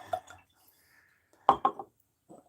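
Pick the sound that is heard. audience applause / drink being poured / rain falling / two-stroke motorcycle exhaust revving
drink being poured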